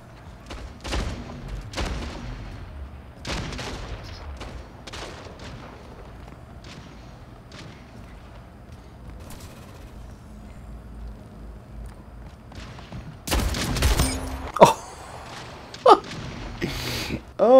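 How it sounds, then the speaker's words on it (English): Shotgun blasts in a first-person shooter match, several sharp loud bursts spaced irregularly, with a tight cluster of heavier shots near the end over a quiet background. "Come and say hello to my little shotgun."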